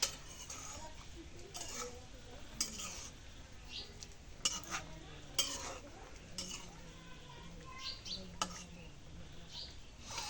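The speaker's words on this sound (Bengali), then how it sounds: "এখন মাছটা একটু নাড়া দিই" Pieces of hilsa fish are stirred in a pan with a utensil, giving faint, scattered scrapes and clinks over a low sizzle, with soft background voices.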